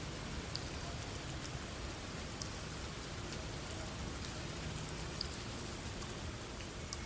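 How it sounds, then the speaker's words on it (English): Steady rain falls outside, a soft, even hiss of drops with occasional faint patters, low in level and continuous throughout with no other sounds. "The rain outside seemed to grow even louder, a soothing white noise against the pounding of his heartbeat."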